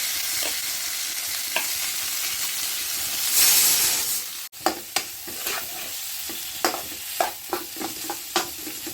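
Amla and potato pieces fry in a hot pan with a steady sizzle and hiss, broken by a sharp burst of steam midway, followed by repeated scraping stirs of a spatula against the pan.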